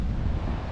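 Ocean surf and wind at the shore near Kitty Hawk make a steady, loud, broadband roar, with heavy wind buffeting on the microphone and no talking.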